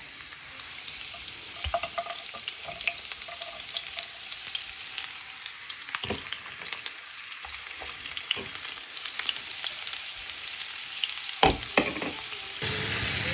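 Celery and other vegetables cook in two pots, with a steady frying sizzle broken by scattered clatters and scrapes from stirring utensils. No one speaks.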